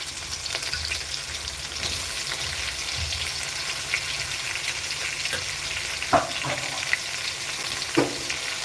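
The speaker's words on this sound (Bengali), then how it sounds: "এর মধ্যে আমি পেঁয়াজটা দিয়ে দিচ্ছি" Onions fry in a pan, giving a steady, loud sizzle with occasional stirring scrapes and small clicks, continuous throughout with almost no talking.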